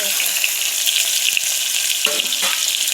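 Vegetables for an eggplant palya fry in a pan with mustard seeds, cumin, curry leaves, tomato and carrot, giving a loud, continuous close sizzle with a few soft stirring knocks.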